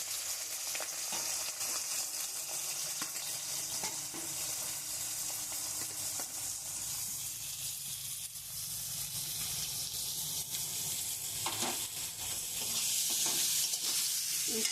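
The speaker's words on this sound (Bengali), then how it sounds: "এবার আমি পেঁয়াজটা দিচ্ছি।" Sliced onion frying in hot oil with green chillies, a steady broadband sizzle and crackle that holds loud and close throughout with occasional stirring clicks, no voices.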